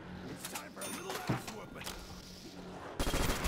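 Machine gun fire sounds in Call of Duty Zombies, with scattered shots and a dense burst near the end, fairly loud under players talking.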